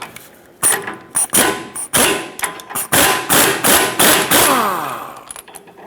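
Loud, close metallic blows and ratcheting clanks in an irregular series as a tool is worked against a stuck mounting nut on the drag link of a Ford E-350 van, each strike ringing briefly.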